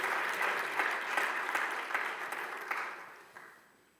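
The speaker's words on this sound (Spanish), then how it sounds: "Dele un aplauso" Congregation applauding during a sermon, a brief burst of clapping from a gathered crowd that fades away after a few seconds.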